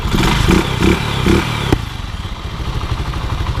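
Close, loud Rusi 125 motorcycle engine with a noisy internal fault, running with a rattly, clattering idle and a few rhythmic revs, then a sharp knock and a rougher uneven chug.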